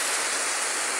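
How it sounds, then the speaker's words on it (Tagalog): Heavy rain pours steadily during a typhoon, a dense, even hiss of water on surfaces that holds at a constant level from start to finish with no voices. "Ayan, lakas na naman ang ulan."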